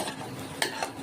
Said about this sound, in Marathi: तर चला आता फोडणीला कांदा टाकलेला आहे, चांगला परतून घ्यायचा